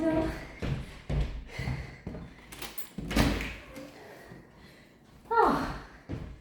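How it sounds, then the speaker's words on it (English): A door is opened during a home cardio workout, giving a few bumps and thuds amid room noise, with a person talking before and after it. "I'm going to open my door."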